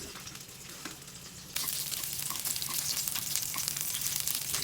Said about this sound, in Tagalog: At iginisa ko na rin itong bawang.